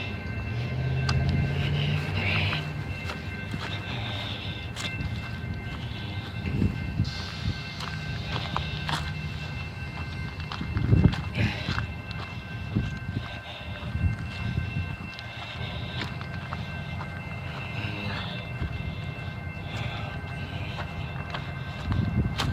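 A Blacklands Railroad special boost train rolls past close by, a long steady rumble with rhythmic clanks and rattles of the rail cars, one louder bang near the middle.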